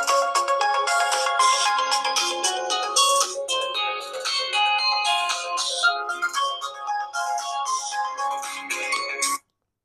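A phone ringtone plays loudly through dual speakers, a bright, bell-like repeating melody that runs steadily for about nine seconds and then cuts off abruptly.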